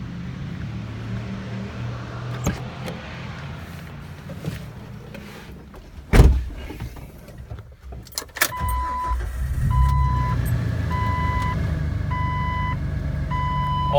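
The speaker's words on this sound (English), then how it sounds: "We'll go ahead and take it on a quick test drive." A 2006 Jeep Wrangler LJ sets off on a test drive: a door thuds shut, a clunk follows, then the engine idles and pulls away with a steady low rumble while a chime beeps repeatedly in the cabin.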